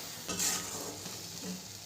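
Chicken bharta with salt and garam masala being stirred in a pan: a soft sizzle with a couple of scraping, clinking utensil strokes against the metal.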